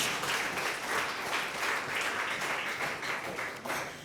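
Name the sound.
church congregation applauding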